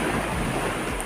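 Ocean waves wash onto a seashore in a steady, broad rushing hiss, fairly close and continuous, with no voices.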